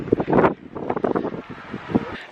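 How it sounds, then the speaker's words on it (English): Strong wind buffets the microphone on a hilltop at Delphi, Greece, in uneven gusts with a rough, rumbling rush. It is fairly loud and close throughout the short stretch. "it's really, really windy"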